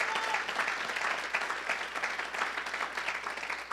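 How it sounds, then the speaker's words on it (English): Sustained crowd applause at a church prayer conference, a dense steady wash of many hands clapping at fairly even loudness throughout. "Let's give the Lord a round of applause."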